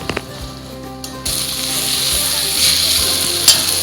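Eggplant sautéing with spices in a pan, a steady sizzle that swells after the first second and holds, with occasional soft scrapes of stirring.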